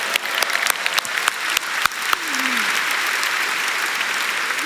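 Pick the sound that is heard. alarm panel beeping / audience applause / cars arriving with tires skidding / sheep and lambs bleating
audience applause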